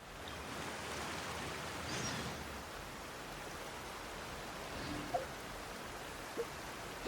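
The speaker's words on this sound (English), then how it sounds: "Yeesh, the rain." Steady rain in the video game Genshin Impact hisses as a soft, even wash of noise, with a few faint clicks near the end.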